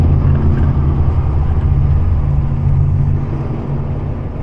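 Rush hour road traffic in Canada produces a loud, continuous low rumble of car engines and tyres, a dense steady drone with no voices.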